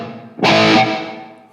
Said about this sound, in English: Try out the reverb.